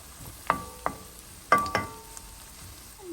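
Chopped onion and garlic sizzle in a pan while being stirred, with several sharp utensil scrapes and clacks over a soft, steady fry.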